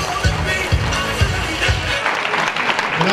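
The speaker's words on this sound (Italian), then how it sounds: "bel applauso." Applause from an audience at an amateur theatre performance of Little Red Riding Hood, with a few loud distinct claps early on, then a denser wash of clapping and faint voices.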